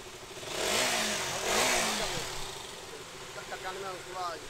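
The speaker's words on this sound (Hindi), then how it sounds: "तो गाइस देखिए बाइक का स्टार्ट हो चुकी है" A KTM Duke 200 motorcycle engine idles and revs up twice with rising and falling roars, running steadily in the background.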